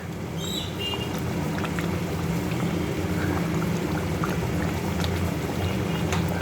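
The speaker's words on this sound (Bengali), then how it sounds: "ঝোলটা ভালো মতো ফুটে গেছে আলুগুলোও সিদ্ধ হয়ে গেছে" Potato curry gravy for a duck egg curry bubbling at a rolling boil in a pot, a steady dense simmering hiss heard up close without any talking.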